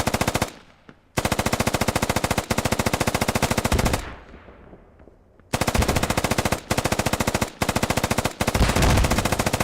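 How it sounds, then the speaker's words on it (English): Rapid automatic gunfire and explosive rocket impacts from an online team shooter match, loud and dense in long sustained bursts broken by short gaps and a fading explosion tail. "So rocket comes in. Another rocket comes in."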